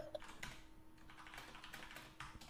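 Quick, uneven keystrokes on a computer keyboard as someone types out a message in Discord, close and fairly quiet, with no voices.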